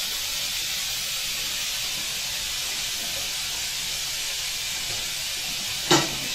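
Lamb steaks sizzle in a frying pan, a steady broad hiss that holds evenly throughout, with one short sharp crackle near the end.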